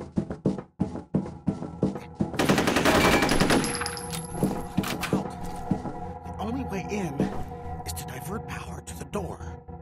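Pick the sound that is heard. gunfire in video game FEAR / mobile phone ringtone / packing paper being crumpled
gunfire in video game FEAR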